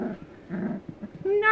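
A three-week-old puppy gives a short, low growl and a brief whine amid soft rustling, with a voice speaking close by at the end.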